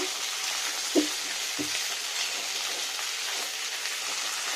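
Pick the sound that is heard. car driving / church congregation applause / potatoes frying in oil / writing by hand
potatoes frying in oil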